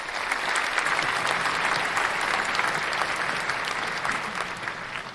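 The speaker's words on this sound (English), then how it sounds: "Stand and cheer for the one, the only, Miss Tameka Garrett." A studio audience applauds and cheers as a guest is introduced on a talk show, dense, loud clapping sustained throughout and easing slightly toward the end.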